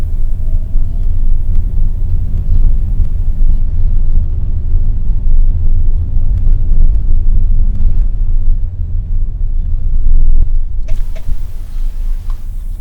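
A manual car rolls slowly through a narrow residential alley with light throttle, a steady low rumble of the engine and cabin heard from inside, fairly loud and unbroken.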